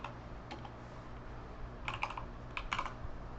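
Quick bursts of keystrokes on a computer keyboard sound close by over a constant low hum. The typing comes in short clusters with brief pauses between them, and no one speaks.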